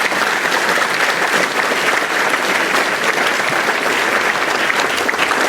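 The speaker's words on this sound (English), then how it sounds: "Round of applause." Steady, dense clapping from a conference audience fills the room, loud and continuous throughout with no break or voices rising above it.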